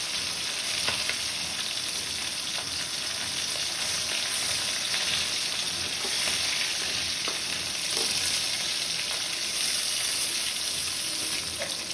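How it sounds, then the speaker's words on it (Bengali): Pomfret fish frying in hot oil in a kadai, giving a steady, dense sizzle that stays loud and even from start to finish, with no voices. "লাল লাল করে ভেজে নেবো এই মাছগুলো তেলে দিয়ে"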